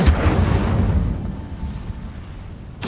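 Incendio fire spell cast in the Hogwarts Legacy wizarding game: a loud booming whoosh that swells at the start and fades over about two seconds, followed by a short sharp burst at the end.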